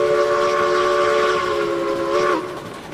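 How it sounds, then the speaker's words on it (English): A Lima steam locomotive in the video game RailRoads Online sounds a loud, sustained multi-tone steam whistle over running train noise, the whistle cutting off sharply after a couple of seconds. "Lima, one of the good locomotives in the game, though, for sure."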